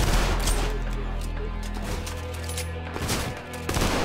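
Pistol and other gunfire in the shooter game Trepang2, with rapid overlapping shots and impacts bursting over a droning game soundtrack, loud and close.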